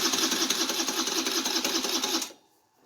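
A Kymco 150cc moped with a weakening battery cranks over, its starter whirring in a steady, rapid rhythm for about two seconds before cutting off abruptly into near silence.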